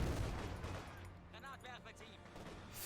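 Booming mortar fire and other battle bursts from a Company of Heroes match, a loud blast at the start fading into scattered explosions, with a commentator's voice faintly audible beneath.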